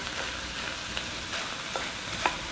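Onions and meat frying in a pan cook with a steady soft sizzle, while a few light stirring clicks and scrapes pop up here and there.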